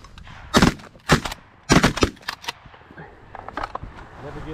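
Several sharp gunshots ring out in quick, irregular bursts, fairly close and loud, followed by fainter scattered pops, with distant voices faintly underneath.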